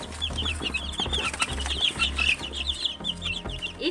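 Incubator-hatched chicks peep in a rapid run of high, bright chirps, close and continuous, over a low hum and occasional rustling.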